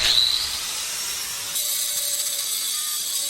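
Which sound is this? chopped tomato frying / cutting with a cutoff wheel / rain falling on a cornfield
cutting with a cutoff wheel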